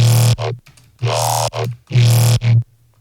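A heavily distorted, low-passed synth wavetable with a formant-like EQ plays four loud, buzzy, vocal-sounding stabs in a choppy rhythm with short gaps between them.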